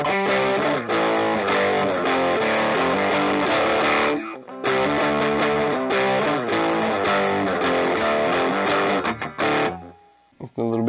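A Guild Polara electric guitar in drop D tuning plays heavily distorted riffs and chords, loud and sustained with brief gaps, ending in a few sparse notes as the playing stops.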